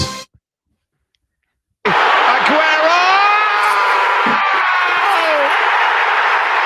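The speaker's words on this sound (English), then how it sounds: "The crowd go wild." A loud, sustained crowd roar with cheering and whoops erupts suddenly after a brief silence during a football fan quiz show, continuing steadily for several seconds.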